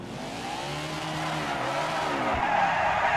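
A NASCAR race car in the NASCAR 21 video game spins all the way around at Sonoma, its tires squealing and skidding in a long, loud screech over the roaring engine, close and without any speech.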